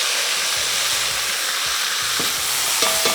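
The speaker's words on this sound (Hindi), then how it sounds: "अब इसकी हम करेंगे थोड़ी सी भुनाई पहले" Marinated meat for Hyderabadi dum biryani fries in a pot with a strong, continuous sizzle and hiss, broken by repeated scraping stirs of a ladle close by, no voices.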